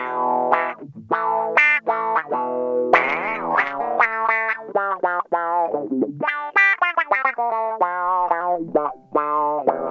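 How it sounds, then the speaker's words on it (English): An electric guitar played through a wah-wah pedal gives a series of sweeping, vowel-like notes and short phrases, loud and close, with the tone opening and closing as the pedal rocks, and no voices. "So here is the wah-wah as it's supposed to be used."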